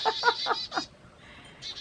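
Birds in the Georgia woods give a quick series of nasal, honking calls, several close together and then a couple more after a short pause.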